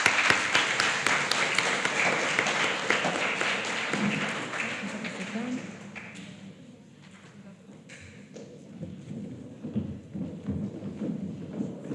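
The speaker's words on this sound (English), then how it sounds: "Shall we give them a round of applause?" Applause at a primary school Grade 7 prize-giving ceremony for academic prize winners: loud clapping that fades after about six seconds, followed by scattered thumps and brief talk.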